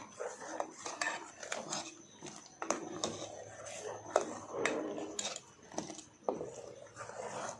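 A spoon stirs a milk mixture for homemade ice cream in a metal pot, giving repeated light scrapes and sharp clinks at an uneven rhythm, fairly quiet and close, with no one speaking.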